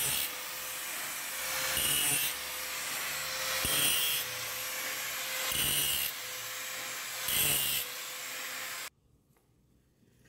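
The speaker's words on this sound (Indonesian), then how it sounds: "Kita memakai gerinda tebal ya teman." Thick grinding disc working a weld root on a 6G practice pipe joint, a steady rough abrasive grind with repeated louder surges of pressure, fairly close, cutting off into near silence at the end.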